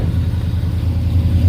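A 1971 Chevrolet El Camino engine runs steadily with a low, loud rumbling idle as the car begins to creep forward.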